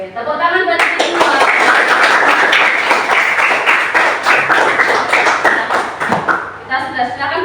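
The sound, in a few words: children clapping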